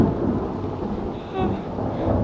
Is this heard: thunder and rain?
yes